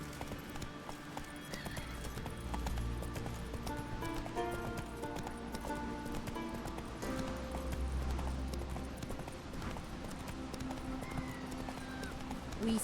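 Horse hooves gallop steadily in The Witcher 3, a continuous rhythmic clip-clop at moderate distance layered over ambient game music and outdoor background sound.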